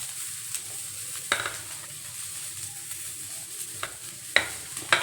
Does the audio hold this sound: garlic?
yes